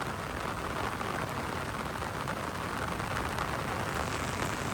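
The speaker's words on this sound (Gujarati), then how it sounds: "ફૂલ મોટો વરસાદ આવે છે" Heavy rain pours down steadily, a dense, loud, continuous hiss of drops drumming on surfaces with no pauses and no voices.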